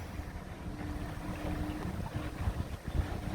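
A boat, sister ship of the Mapua ferry, passes on the water in New Zealand with a low steady engine rumble under wind noise and lapping waves, moderately distant and with no talk.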